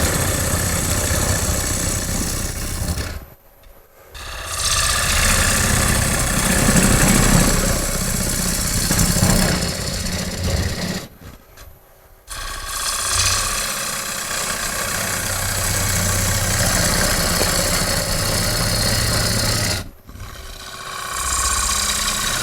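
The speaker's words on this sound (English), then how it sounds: "I'm going to turn the speed up a little bit, rub the bevel, starting to cut, and push" Roughing cut on a wood lathe with a gouge, a steady loud grinding rumble of the tool biting spinning wood, broken by three short pauses where the cut stops.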